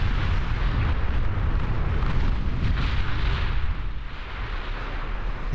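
Battleship gunfire in the naval strategy game Ultimate Admiral Dreadnoughts: dense, loud, rumbling cannon booms that blend into a continuous roar of heavy bombardment and ease off slightly near the end, with no voices.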